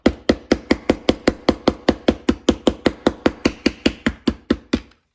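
A hammer strikes metal in a fast, even run of about twenty sharp, close blows, knocking pieces off round stock, then stops.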